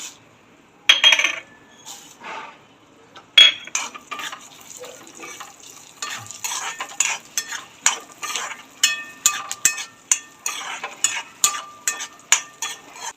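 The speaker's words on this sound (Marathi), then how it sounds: "त्या तुपात आपण सीड्स तळून घेऊया" Seeds fry in hot ghee with a light, crackling sizzle, while a spoon stirs and taps the pan in a steady series of sharp knocks that grow more regular toward the end.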